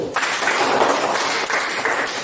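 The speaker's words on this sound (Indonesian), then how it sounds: "tepuk tangan untuk Bro" Classroom applause for a student, a dense burst of many children clapping close by, loud and continuous through the short span.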